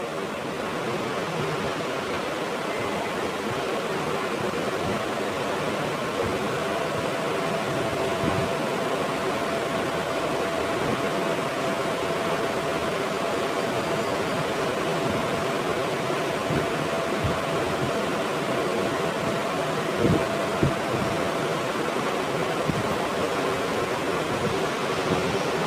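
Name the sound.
water being poured into cooking pot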